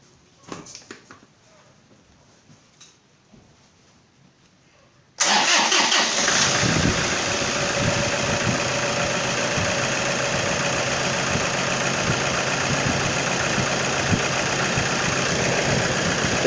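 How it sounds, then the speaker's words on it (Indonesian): A car with a weak battery, jump-started from a motorcycle battery, cranks briefly and catches, then settles into a loud, steady idle that runs on after a few quieter handling noises. "Udah, kita coba starter."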